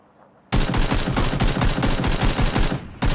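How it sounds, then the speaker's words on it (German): Gunfire erupts in PUBG Battlegrounds as a rapid, evenly spaced volley of sharp shots. The loud burst runs about two and a half seconds, pauses briefly, then resumes. "Jetzt sniped irgendeiner von sonst wo auf mich"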